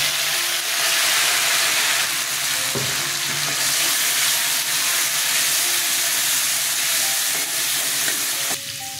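Hilsa fish head sizzles loudly in a pan with ginger, chili and garlic paste, a steady, dense frying hiss running the whole time with faint stirring taps and no voices.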